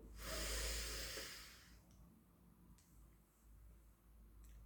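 A slow, deep inhale through the nose during a seated breathing exercise, hands raised overhead and joined, with a breathy hiss swelling in the first second or two and then fading into quiet room tone.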